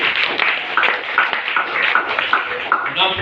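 A church congregation clapping for Jesus during a Swahili worship gathering, steady rhythmic handclaps in a regular beat, mixed with voices and music throughout.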